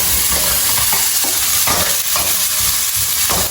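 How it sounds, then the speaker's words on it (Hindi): Ginger, green chili, carrot and cucumber stir-fried for fried rice: a loud, steady sizzle with rhythmic scraping tosses of the spatula, close up and continuous, with no talking. "इसको अच्छे से स्टिर फ्राई करेंगे"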